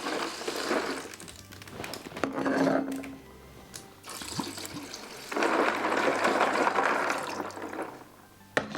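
Water pours into a cool box packed with ice, giving a close, gurgling, sloshing rush that swells and eases in uneven stretches, with brief knocks and no speech.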